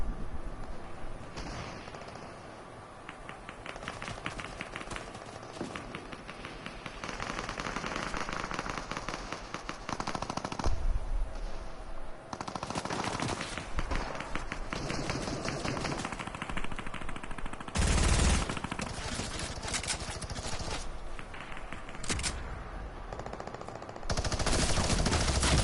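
Gunfire in Fortnite, with rapid bursts of automatic shots and scattered single cracks coming in dense clusters over the whole stretch, loud and close with short pauses between volleys.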